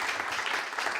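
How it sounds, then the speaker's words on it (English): Audience at a Unity Center of Peace gathering applauding welcomed board members, a steady dense patter of many hands clapping at moderate distance throughout the brief moment. "Let's give them a round of applause, board members."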